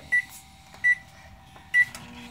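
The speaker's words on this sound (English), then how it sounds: "there's a peep in this microwave, and we're going to microwave it for about, 45 seconds." Three evenly spaced short beeps from a microwave oven heating a marshmallow Peep, each beep a clear tone over the low hum of the running oven.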